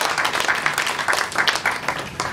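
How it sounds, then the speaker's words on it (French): Congregation at a live church service clapping for Jesus, a dense patter of many hands with sharp individual claps, steady and fairly close, filling the whole stretch. "Clap for Jesus."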